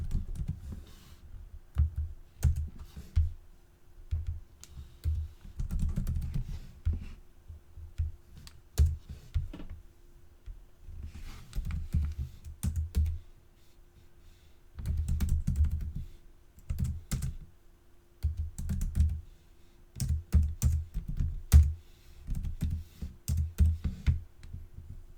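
Typing on a computer keyboard while filling in a registration form, with bursts of rapid close key clicks separated by short pauses, continuing throughout with no talk.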